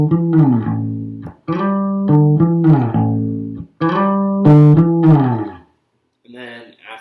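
Guitar playing the intro sequence of a song in A, a repeated run of sustained, overdriven notes with a few short breaks, loud and close, with no talking.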